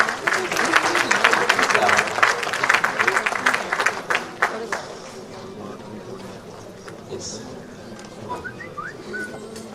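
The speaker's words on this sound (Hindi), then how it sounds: "आप सबकी जोरदार तालियां।" Applause at a Hindi-language felicitation ceremony for a playback singer, loud dense clapping for the first few seconds, then thinning to scattered claps as the crowd settles, with some background murmur.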